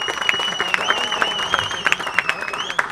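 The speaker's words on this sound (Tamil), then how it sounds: "கண்டிப்பாக கைத்தட்டணும்." Audience applause rings out in quick, uneven claps with sharp peaks, under a ringing tone from a speaker stage setting.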